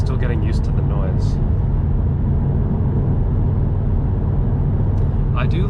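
A Subaru WRX STI with a Stage 1+ tune being driven, its engine a loud, steady low rumbling drone heard from inside the cabin, with someone talking briefly over it.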